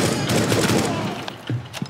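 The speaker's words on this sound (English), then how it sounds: "I don't know who's shooting at me." Gunfire from a video game rattles in quick, loud bursts close up, followed by a few separate sharp shots near the end.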